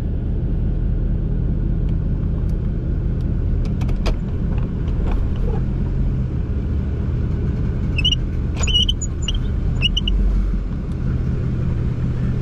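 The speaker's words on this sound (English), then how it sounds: "That's another F-250." A Ford F-250 pickup truck rolling past in a residential cul-de-sac, a steady low engine rumble and road noise heard from inside a vehicle, with faint higher squeaks midway.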